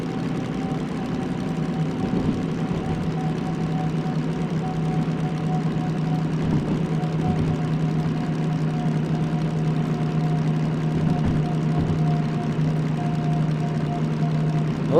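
A DM3 locomotive engine in Derail Valley runs with a steady, low diesel drone and an even hum, holding constant and fairly close for the whole stretch with no break in its rhythm.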